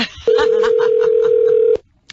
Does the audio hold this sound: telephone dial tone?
yes